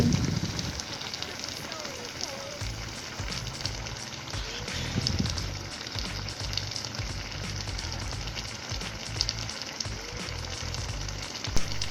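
Homemade pineapple jam bubbles and sizzles in a pan over a fire, a steady crackling hiss with occasional stirring scrapes and low bursts, with someone talking now and then.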